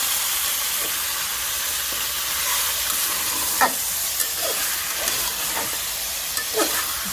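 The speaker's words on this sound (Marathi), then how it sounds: "आणि त्याला आपण खूप छान असं हलवून घेऊया" Chicken and browned onion being stirred with masala in hot oil, a steady sizzle and hiss with a few scraping spoon strokes, close and alone.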